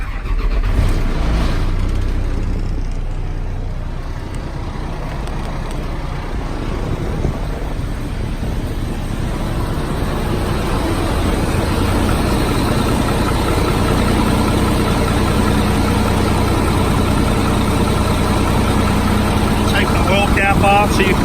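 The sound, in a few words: 2005 GMC truck engine starting up and running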